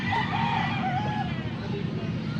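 A rooster crows with a drawn-out, wavering call over steady background noise and some faint voices.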